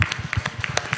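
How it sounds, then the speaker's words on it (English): Audience members clap for Prof. Sukoso at a halal summit, a brief scattering of quick, uneven claps from a small crowd, close and moderately loud. "give applause to Prof."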